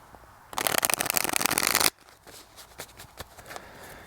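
A deck of Halloween tarot cards is riffle-shuffled close up, giving a dense burst of rapid fluttering clicks for over a second, then a few softer scattered taps as the cards settle; no voices.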